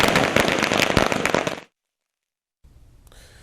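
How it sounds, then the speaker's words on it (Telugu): Diwali firecrackers burst in a dense crackling volley during festival celebrations in Andhra Pradesh, loud and close for over a second, then cut off; after a brief silence, faint noisy background returns. "చిన్నారులు పెద్దలు దీపాలు వెలిగించి టపాసులు కాలుస్తూ ఉత్సాహభరిత వాతావరణంలో పండుగను జరుపుకున్నారు"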